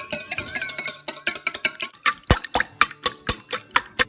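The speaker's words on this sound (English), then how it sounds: "Now we will whisk them." Eggs whisked in a bowl for crepe batter, quick rapid clinks at first, then slower, evenly spaced sharp taps of the whisk against the bowl, close and clear.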